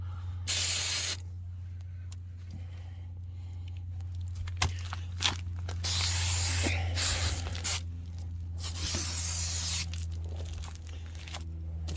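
Several loud bursts of aerosol Fluid Film rust-protection spray hiss in short and longer blasts under a Lexus GX460, separated by quiet gaps over a low steady hum.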